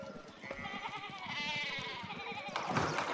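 Sheep bleat in the Pentiment video game, a few wavering, nasal cries rising and overlapping at moderate distance for several seconds, with no voices.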